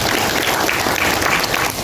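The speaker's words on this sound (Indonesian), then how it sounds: "tepuk tangan untuk PKS" An audience claps loudly and steadily in a hall during a national dialogue event, with dense and continuous applause and a faint murmur of the crowd.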